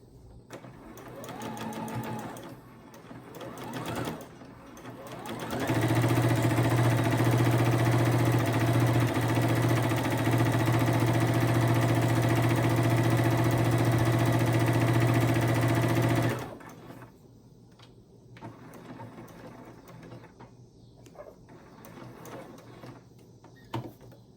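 Sewing machine stitching elastic onto a cloth jar bonnet: a steady, fast whirring run of about ten seconds, framed by quieter handling noises and soft talk.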